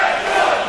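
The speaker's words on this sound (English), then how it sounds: "Again, a split crowd." A split wrestling crowd at an independent show roars in a steady, dense wall of cheering and shouting, loud and continuous throughout with no pauses.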